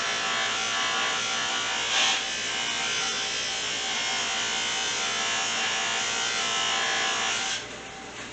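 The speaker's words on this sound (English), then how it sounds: "A regular buffing wheel." An orange-painted Harbor Freight bench buffer runs with a regular buffing wheel, a steady loud whirring drone throughout that drops off slightly near the end.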